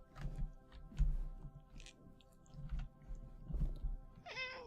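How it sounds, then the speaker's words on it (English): A house cat meows close by, several short vocal calls spread across a few seconds with soft mouth and chewing noises between them and a rising, tonal meow at the end. "Oh, hello, cat."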